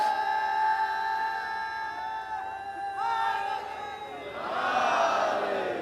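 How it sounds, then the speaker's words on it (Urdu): A young man and a crowd shout a religious slogan together at a majlis, a loud massed chant in sustained, swelling waves that rises again strongly near the end. "آپ دیکھو اس نوجوان نے نعرہ لگایا"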